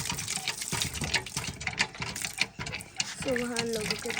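Water running and gushing from a village hand tap, an uneven splashing flow near at hand, with people talking over it.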